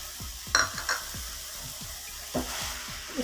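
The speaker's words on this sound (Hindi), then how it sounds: "इसको हम अच्छे से इस तरह ऑयल में सब गाजरों को मिक्स कर लेंगे" Grated carrots fry in half a cup of cooking oil while a spoon stirs them, a continuous close sizzle broken by rhythmic scraping strokes and light metal clinks against the pot.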